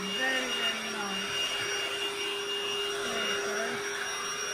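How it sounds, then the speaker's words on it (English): A Lidl cordless Hoover vacuum cleaner runs with a steady, loud motor whine and airy rush throughout, while a voice speaks briefly underneath. "It's a very light vacuum, very, very light."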